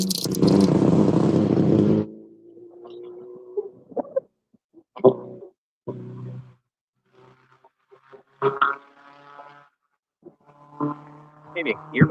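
A rally car's engine roars loudly at full revs for about two seconds, holding one pitch as though stuck in gear with possible gearbox trouble, then cuts away to scattered quieter sounds and spoken voices.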